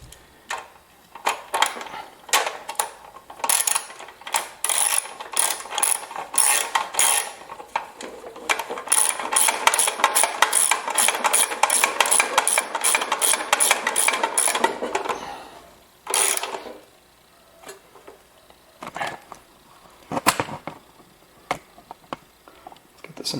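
Bolts holding down a lawn mower fuel tank tightened with a ratchet, rapid clicking bursts that run steadily for several seconds and then break into scattered clicks, close up, with no talking.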